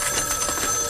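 A telephone ringing in a noisy children's TV studio, a steady electronic trill running through the full second with no pause, loud and close.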